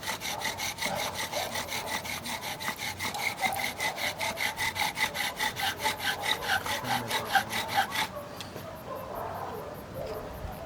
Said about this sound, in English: And I'm cutting a notch, and that's where the ember's going to fall.